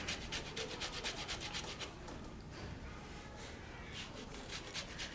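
An orange is scraped against a grater to take off zest, with quick rhythmic rasping strokes up close at first, then softer, steadier rubbing.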